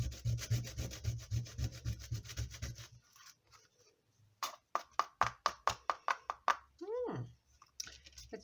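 A pastel stick rubbed on sandpaper to grind it into powder: a fast run of gritty scrapes, then a pause and a slower series of distinct rasping strokes, close and fairly soft.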